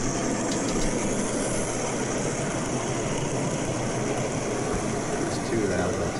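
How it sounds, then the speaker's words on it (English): Steady rumbling mechanical noise fills the whole stretch, a continuous low drone like trains running nearby, with no clear pauses. "You hear trains running now."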